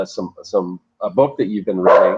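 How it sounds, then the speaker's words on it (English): Several dogs in a home, four of them, bark and yip in short bursts close by, mixed in among a person talking and partly covered by the speech. "We've got 4 dogs running around."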